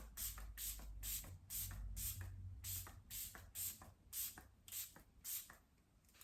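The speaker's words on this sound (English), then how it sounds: "Finishing touch, I'm adding my spray from Dalba." Dalba spray serum is misted onto a face in about a dozen quick, evenly spaced hissing spritzes, soft and close, with no talking.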